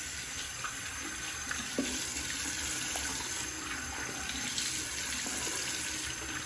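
Warm tap water runs steadily into a bathroom sink as a face is wetted before a shave, a continuous close hiss and splash with small irregular splashes throughout and no talking.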